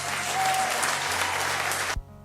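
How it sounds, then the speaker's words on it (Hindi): A crowd applauding, a dense steady wash of clapping that holds for about two seconds and then cuts off abruptly. "इस कामयाबी पर तालियां तो बनती ही थी।"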